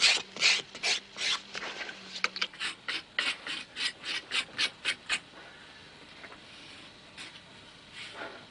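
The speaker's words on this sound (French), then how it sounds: "Avec un grattoir." A hand scraper drawn over a wooden clog (sabot) in a traditional clog-making workshop, making a steady run of close, rhythmic rasping strokes, about a dozen in a row, that then thin out into quieter, scattered scrapes.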